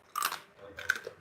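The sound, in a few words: crunching homemade potato chips while eating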